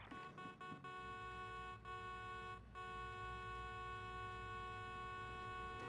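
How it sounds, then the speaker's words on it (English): A car horn in the video game Need for Speed Most Wanted holds a steady, sustained honk for several seconds with engine hum underneath, fairly faint and interrupted by a few brief dips. "Honk my horn."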